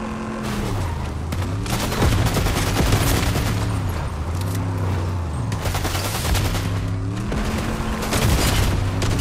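Cannon fire in a video game, a dense, continuous barrage of loud booms and rapid shots layered over a pulsing mechanical drone, unbroken from start to finish.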